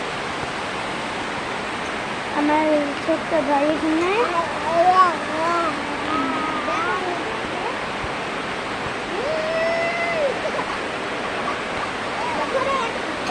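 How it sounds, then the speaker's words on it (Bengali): Heavy rain pours down in a steady, dense hiss that fills the whole clip. Voices talk quietly beneath the roar of the downpour. "বৃষ্টি, অনেক বৃষ্টি এদিক দিয়ে আসছে।"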